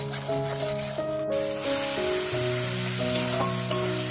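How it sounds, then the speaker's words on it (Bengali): A spice masala fries in oil in a pan, giving a continuous soft sizzle under clear background music, with a couple of faint clinks toward the end. "চলো দেখতে থাকো, আমি মশলাটা কষিয়ে নিয়ে আসছি"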